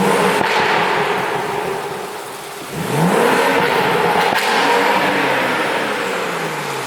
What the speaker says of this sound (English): Anybody that don't think that exhaust sounds dope, you're bugging.